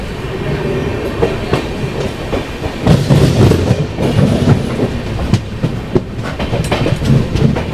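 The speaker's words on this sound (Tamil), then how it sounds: "ஸோ இந்த வண்டி பார்த்தீங்கன்னா சவுத் வெஸ்டர்ன் ரயில்வே ஆப்ரேட் பண்ணக்கூடிய ஒரு ஜன்சதாப்தி தான்." A South Western Railway Jan Shatabdi passenger train runs past close by, a loud rumbling roll with rhythmic clickety-clack of wheels over rail joints and rattling carriages throughout.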